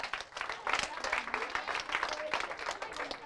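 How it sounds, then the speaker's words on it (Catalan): Audience applause at a storytelling performance, a burst of mixed clapping with voices and cheering over it, moderately loud and fairly close. "Un aplaudiment, home."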